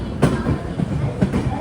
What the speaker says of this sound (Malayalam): ട്രെയിൻ ഇപ്പോൾ എറണാകുളം ടൗൺ റെയിൽവേ സ്റ്റേഷനിലേക്ക് എത്തുകയാണ്.